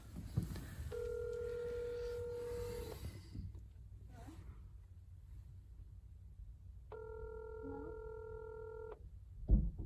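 A telephone plays two bursts of dialing tones, each a steady electronic tone lasting about two seconds, separated by a quiet gap over low background hum.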